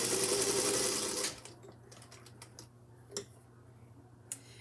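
A sewing machine stitches a scant quarter-inch seam in a fast, loud whirring burst that stops after about a second, followed by quiet ticks and small clicks.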